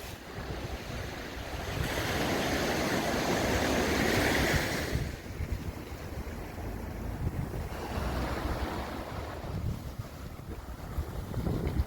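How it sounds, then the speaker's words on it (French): Waves break and roll on the shore at Sainte-Maxime in the Var while wind gusts across the microphone, a broad loud roar swelling in the first seconds, then easing into a softer continuous wash. "Le bruit des vagues."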